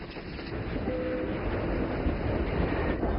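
A heavy freight train, over 20,000 tonnes, running on an east-west heavy-haul railway in northern China, with a continuous dense rumble and rolling noise throughout.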